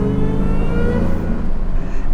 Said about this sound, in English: do a little burnout